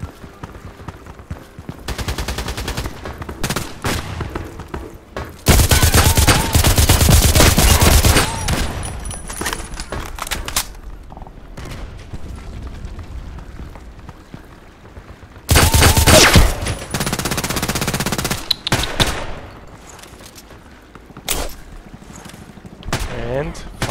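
Machine gun fire in the online shooter Contract Wars comes in two loud, dense sustained bursts, with quieter scattered gunshots between and after them.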